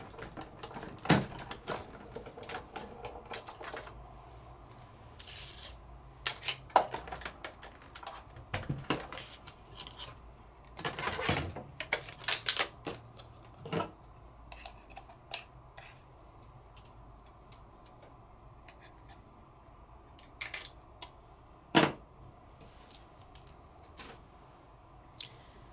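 Cut 'n Foil dies with black paper and foil fed through a die cutting machine, a steady low mechanical rolling hum running throughout, broken by scattered clicks and handling knocks, close and fairly quiet.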